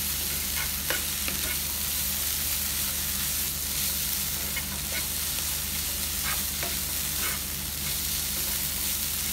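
Lal bhaji with chana frying in a pan, a dense continuous sizzle with repeated spoon scrapes and taps as it is stirred.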